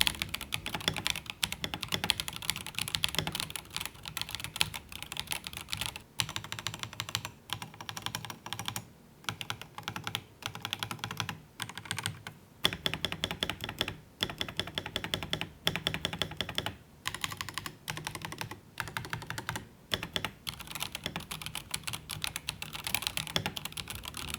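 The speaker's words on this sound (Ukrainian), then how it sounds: "Загалом тапінг клавіатури мені подобається. Ну просто послухайте самі." Continuous clacky keystrokes on a HyperX Alloy Rise 75 Wireless mechanical keyboard, fast and uneven in rhythm, close and crisp, with brief pauses between bursts.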